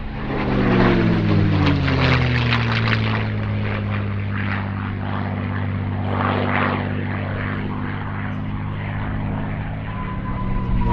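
A P-51 Mustang propeller fighter flies at the Shuttleworth Festival of Flight airshow, its engine a loud, steady droning roar whose pitch slowly drops as it passes, close and sustained throughout.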